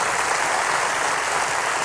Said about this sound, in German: Jetzt klatsch doch mal, Leute.